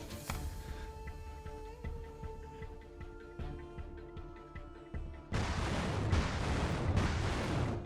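Artillery explosions in Arma 3 with the Blastcore Murr edition effects mod: a sharp blast, then distant booms and crackling rumble, ending in a sustained loud roaring barrage.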